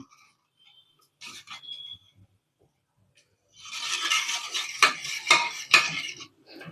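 A masher scrapes and thumps in a pot of boiled potatoes and tomato sambar, with a few faint clinks at first, then a run of close metallic scraping and rhythmic pressing strokes.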